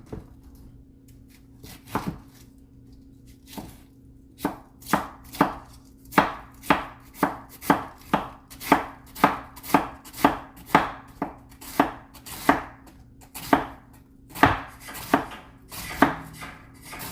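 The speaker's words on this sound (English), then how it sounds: "Cabbage, I like to cut the middle out first, so I can just make a full cut." Knife chopping through cabbage on a cutting board in a home kitchen, a steady run of about twenty crisp, close chops that quicken into an even rhythm, with a faint hum beneath.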